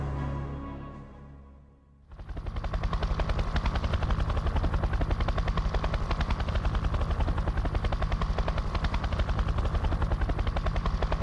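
An RAF helicopter's rotor thumps in loud, rapid, steady beats that begin abruptly after a quiet lead-in and continue unbroken, close and dominating.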